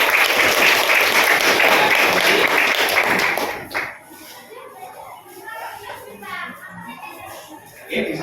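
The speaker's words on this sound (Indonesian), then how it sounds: "Sekali lagi aplaus untuk" A classroom audience applauds after a student presentation, dense steady clapping for about four seconds that then stops abruptly, followed by quieter room noise with children's voices chattering.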